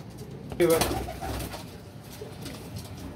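A Teddy pigeon gives a short, soft coo up close, followed by faint rustling and quieter background murmurs.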